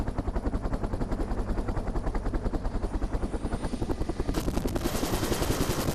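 A military helicopter carrying special forces troops for a parachute training jump thumps loudly and steadily up close, its rapid rotor beat pulsing continuously with a rising whine near the end.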